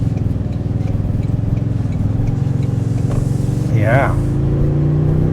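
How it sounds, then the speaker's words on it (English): A 2026 Toyota Sequoia 1794 Edition hybrid SUV accelerates on a road, its engine a loud, steady drone heard from inside the cabin, with a brief spoken word over it. "we're going to take it on this quicker road and see how that accelerates here"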